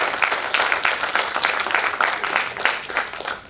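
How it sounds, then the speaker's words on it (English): Moderate, slightly uneven clapping from an audience at the inauguration of a national moot court competition at IIT Kharagpur, individual claps audible within the steady applause. "Please, big round of applause."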